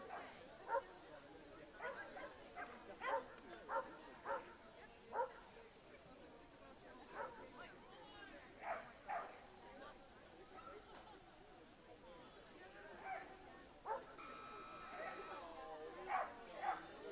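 Dogs bark and yip repeatedly at an agility-style dog competition, with sharp barks scattered throughout over crowd murmur and a voice talking nearby.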